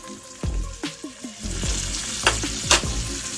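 A ribeye sizzles in butter in a cast iron pan while it is basted, with a dense, bubbling crackle and repeated clinks and scrapes of a spoon against the iron, close and loud with no talking.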